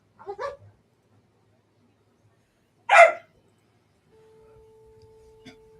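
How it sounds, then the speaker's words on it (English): Puppies yip and bark in two short separate bursts, fairly close, with silence between and a faint steady hum afterward. "now I got puppies playing behind me"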